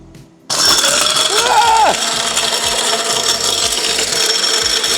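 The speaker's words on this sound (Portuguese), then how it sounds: "começamos com as ostras e vamos pôr aqui nesta máquina para triturar" A grinding machine crushing oyster shells starts abruptly and runs loud and continuous, a dense rasping, scraping churn with a brief whining sweep near the start, with some talk beneath.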